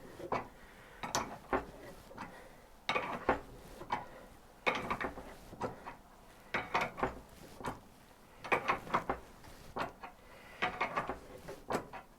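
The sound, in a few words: turning a nut on a Hayabusa motorcycle rebuild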